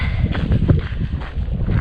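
Gusty wind buffets the microphone on the Pacific Crest Trail, inside the clouds, a steady low roar that rises and falls without pause.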